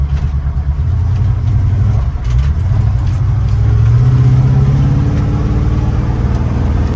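Engine of a squarebody 4x4 shortbed pickup truck while driving, a loud steady low rumble with a slight rise in pitch as it pulls along.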